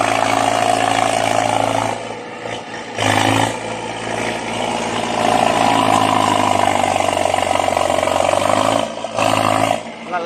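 A tractor engine labors and revs steadily while stuck in sand, droning loudly with brief dips, as if straining under load; no talking.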